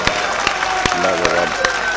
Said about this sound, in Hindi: एक बार पूरा पांडाल जोरदार ताली बजाए